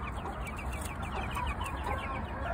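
Chickens cluck steadily in a backyard flock that includes a white rooster and a black rooster, many overlapping calls close by against a constant farmyard din, with no voices.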